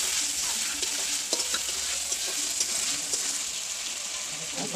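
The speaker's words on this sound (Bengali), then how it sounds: "একটু নেড়ে নেড়ে নেড়ে নেড়ে ভালো করে ভেজে নিচ্ছে" Spices with ground coriander paste and salt sizzle steadily in a pan for a taro recipe, stirred with soft scraping, a constant close frying hiss with small clinks and no talking.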